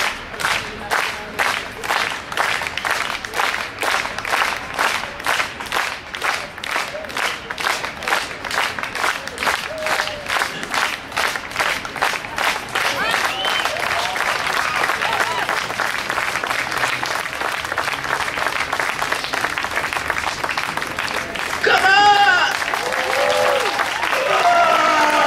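Sustained audience applause from a crowd, dense clapping that swells and holds steady throughout, with a brief burst of cheering near the end.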